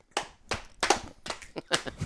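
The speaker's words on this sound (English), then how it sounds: "We all clap at the same time." Several people clap their hands together at once, producing a series of sharp, loud claps in an irregular rhythm with brief gaps between them, close by and with no talking.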